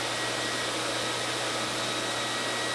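A noisy vacuum cleaner runs steadily near cats, a loud continuous motor whine with a sharp tonal hum and no pauses.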